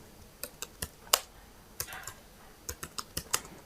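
Typing an SQL query on a computer keyboard: sharp, irregular key clicks in short bursts, close and clear against a quiet background with no talking.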